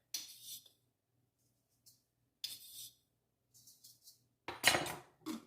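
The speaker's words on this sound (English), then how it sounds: "we're going to be dropping a little lid on the floor here" A small lid drops onto a kitchen floor during meatloaf preparation, landing with one loud, sharp clatter and ringing rattle near the end, after a few softer scattered clinks and bumps in a quiet room.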